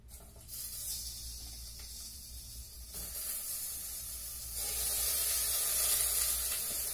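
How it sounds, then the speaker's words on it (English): Food stir-frying in a pot on the stove gives a steady hiss and sizzle that rises and gets brighter partway through, close and with no talking. "we can just stir fry it a little bit in a pan or in the same pot we used before"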